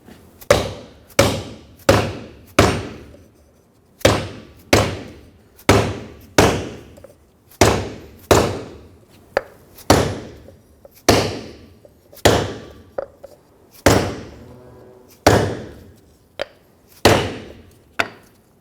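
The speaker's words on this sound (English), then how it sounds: "I'm going to use a rubber mallet and drive this down all the way." A rubber mallet strikes a wood block, driving a rear wheel seal into a 2011-2016 Ford F-350 axle: about twenty sharp, loud thumps at a steady pace, each with a short ringing decay, and no voices.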